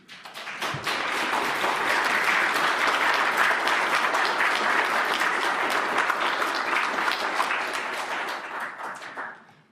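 Audience applause after the Premier's cancer care announcement, a full room clapping steadily and loudly for several seconds before fading out at the end.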